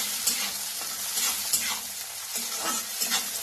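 Onion and tomato fry in a pan for masala okra, giving a continuous bright sizzle broken by rhythmic scraping strokes of a spatula, close up with no voices.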